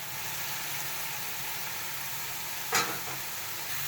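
Steady, dense sizzling of 1.5 kg of beef with marrow bones frying in a hot pot for nihari, with a brief louder clatter of stirring near the end.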